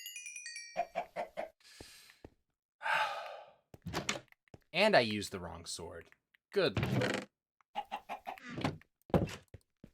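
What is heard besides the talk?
chicken clucking in Minecraft video game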